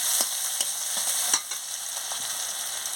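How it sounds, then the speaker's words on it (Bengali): Green chilies fry in hot oil for a tilapia fish curry with Malabar spinach, a steady close sizzle broken by several sharp stirring scrapes in the pan. "কাঁচা লঙ্কা দিয়ে দিচ্ছি, কাঁচা লঙ্কাটা দিয়ে ভালো করে ভেজে নিচ্ছি।"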